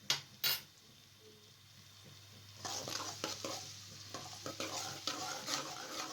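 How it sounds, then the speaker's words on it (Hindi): Nigella seeds and onions hit hot cooking oil in a pan, with a couple of sharp clatters first, then a steady, close sizzle that lasts to the end. "जैसे ही ऑयल गर्म हो जाए तो इसके अंदर आपने कलवंजी को डाल देना है। साथ में प्याज भी शामिल कर दें।"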